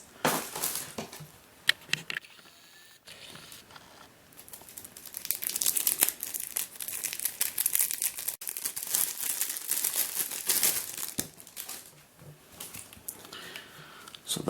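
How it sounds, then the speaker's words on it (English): QiYi puzzle cube being unboxed from its plastic packaging, with crinkly rustling and crushing plastic sounds coming close and fairly loud in repeated bursts, with a short quiet pause near the start. "Once again, it's in plastic packaging."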